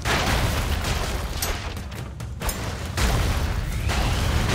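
Repeated booms and blasts from Broforce, a run-and-gun video game, pile up into a loud, dense, near-continuous barrage with scattered sharper bursts across the whole stretch.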